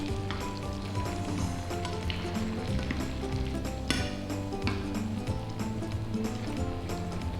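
Food pieces frying in very hot oil until golden brown on all sides, a dense, steady sizzle with crackling pops running continuously and close throughout.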